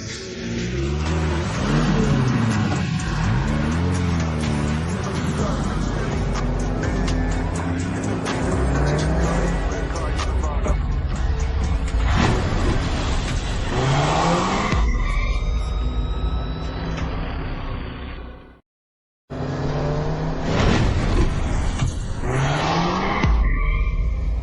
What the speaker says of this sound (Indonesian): Asisten Pei ternyata bisa menyetir mobil sport